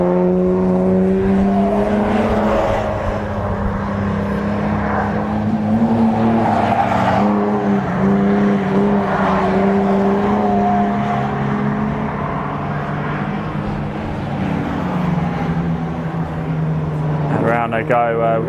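MG Cup race cars run qualifying laps on a circuit, their engines a constant loud drone with rising and falling pitch through the whole stretch, joined by a sharper whine near the end as cars pass.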